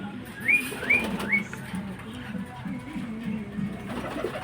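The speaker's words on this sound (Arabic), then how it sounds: "حمامه مقفوله، حمام شغال برضو يا جماعه" Pigeons cooing inside a pigeon shop, several soft, rolling coos repeating in a steady rhythm close by, with a few higher chirps at the start and faint background noise.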